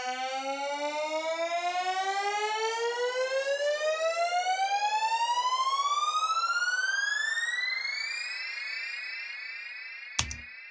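Synth riser recorded on a Behringer Pro 1: a buzzy, pulsing tone sweeps steadily upward in pitch for about eight seconds, then fades, cut off by a sharp click near the end.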